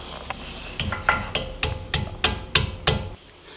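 A hammer taps metal about ten times while fitting a brake part on a BMW M235i during a brake pad upgrade, sharp knocks in a steady rhythm that grow louder and closer together before stopping.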